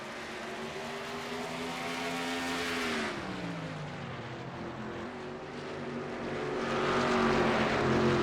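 Race trucks in a NASCAR-style truck series race at Martinsville roar past, engines droning loudly with a pitch drop as one passes, then a second wave of engine noise building toward the end.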